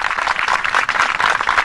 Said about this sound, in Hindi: बजाओ बजाओ, तालियां बजाओ।